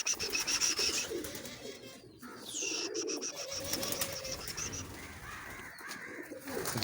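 Pigeons, including a newly caught black one, coo softly with low throaty calls over a faint background, joined by a few brief higher chirps and rustles.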